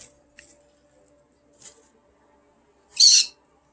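A pet bird chirps in a quiet room: a few faint, scattered short chirps, then one louder, brighter squawk near the end.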